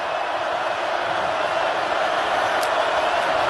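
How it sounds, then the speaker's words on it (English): Crowd and students roar at a Vanderbilt vs Tennessee college football rivalry game: a steady, loud wash of stadium noise that stays constant throughout. "Students get loud. Crowd gets loud."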